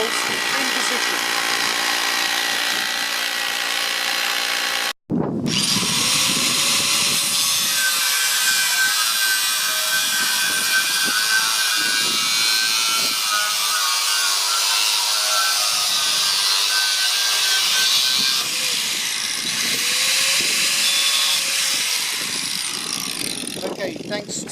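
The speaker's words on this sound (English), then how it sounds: "So we're now going to drill all other holes in position." A loud power tool whines steadily and grinds through material, its pitch rising and falling as pressure changes, with a short break near the start.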